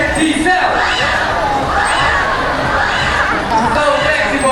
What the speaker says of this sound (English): How about another round of applause for sea lion friends?